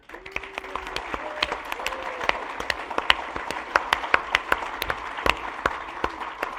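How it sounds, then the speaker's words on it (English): An audience applauds steadily at a Dungeons & Dragons event, many hands clapping in a dense patter that holds for several seconds, moderately loud with a few sharper claps standing out. "I would like a huge round of applause for Peter."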